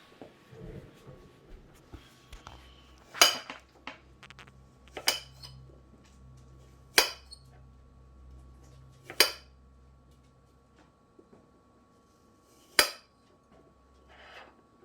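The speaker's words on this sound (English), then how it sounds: "now I'm going to cut some apples on screen." A knife cuts through apples for apple crisp, giving about half a dozen sharp, separate knocks on a board spaced a couple of seconds apart, close and fairly loud over a quiet low hum.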